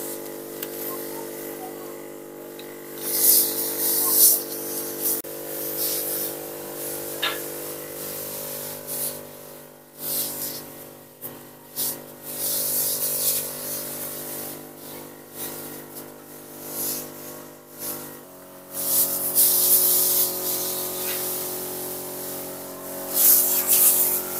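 Organic Jadam sulfur fungicide sprayed onto grape plants from a tall, extendable sprayer wand: a steady hissing spray runs through most of the stretch in repeated bursts, over a constant low hum.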